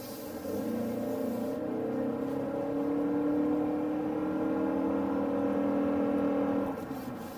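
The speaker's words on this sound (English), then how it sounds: "Accelerating onto this road, getting up to 50 miles an hour." A Mazda CX-50 hybrid with a Toyota hybrid system accelerates onto a road toward 50 mph, its engine holding a smooth, steady drone that rises slightly and then eases off near the end.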